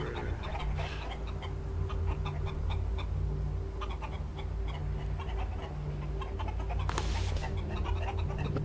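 Chickens in the ELEX video game cluck in a scattered series of short calls over a steady low background drone and hum, at moderate volume.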